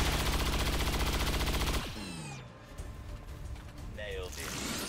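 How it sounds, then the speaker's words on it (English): Rapid traverse fire with bluescreen rounds in XCOM 2 starts as a loud sustained burst of automatic gunfire that cuts off abruptly, followed by quieter whooshing, rising effect tones and clatter. "So traverse fire going to do work here with these blue screen rounds."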